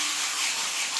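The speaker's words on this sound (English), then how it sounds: "So I'm sanding it with this sanding block." Hand sanding a surface with a sanding block during a laundry makeover, a steady close abrasive rubbing and scratching that continues evenly throughout with no pauses.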